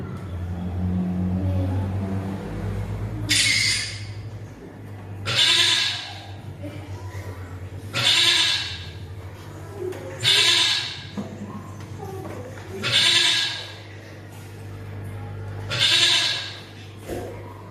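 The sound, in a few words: goats bleating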